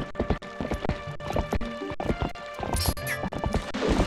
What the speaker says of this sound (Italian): Cavolo, non riesco a comandare il cavallo decentemente.